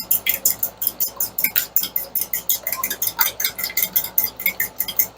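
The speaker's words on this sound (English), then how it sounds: "we're just going to whisk this together" Eggs whisked in a bowl with rendered chicken fat for matzo balls, a quick steady clinking rhythm of whisk against the bowl, close and continuous, with no voices.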